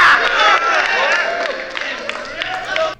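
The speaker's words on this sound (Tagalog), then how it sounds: "Naghiyawan yung crowd doon pero hindi natin naintindihan yun" At a rap battle, a close crowd cheers and shouts in a loud burst that tapers off, with scattered claps and whoops continuing beneath it.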